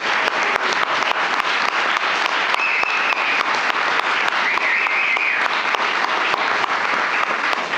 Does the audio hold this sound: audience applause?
yes